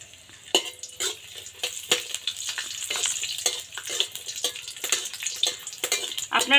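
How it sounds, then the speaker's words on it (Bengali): Raisins frying in ghee in a pan while a spoon stirs them, a steady close sizzle with frequent scraping strokes of the spoon. No one speaks. "2-3 মিনিটের মতো একটু ভাজব।"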